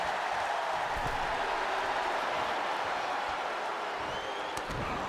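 A dense arena crowd cheers and applauds throughout a wrestling match in the WWE 2K26 video game, a steady loud roar of noise with a few sharp claps or thuds near the end.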